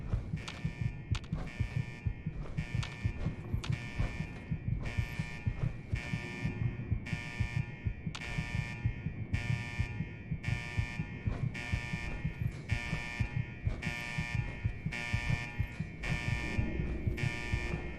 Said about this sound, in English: So this alarm has been going off forever.